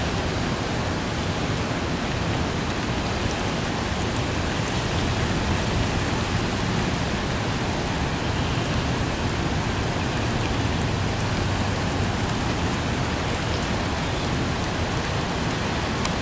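Heavy rain pours down during a severe thunderstorm in a dense, continuous hiss, steady and loud throughout with no voices.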